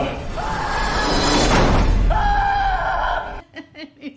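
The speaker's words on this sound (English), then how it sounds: "And Adam's just screaming" A man screams loudly in a horror scene from the Saw movie, a sustained anguished wail over a dense, harsh backdrop that breaks into a pause, resumes, then cuts off abruptly into a few faint trailing sounds.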